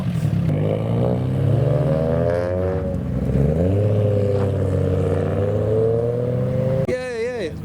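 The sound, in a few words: modified Nissan S15 car driving past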